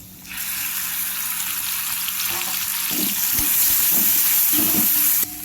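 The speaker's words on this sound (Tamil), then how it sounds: "பச்சை வாசம் போகிற அளவுக்கு இதை நல்லா நம்ம வதக்கிக்கணும்" Onion and tomato paste sautéing with yellow pumpkin in a pan, a loud close hissing sizzle that swells steadily, with a few stirring scrapes near the end.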